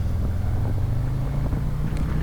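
A 2020 Harley-Davidson Fat Boy with the 114 engine rumbles through a low, steady, throbbing exhaust note while riding away from a dealership, with wind buffeting the microphone.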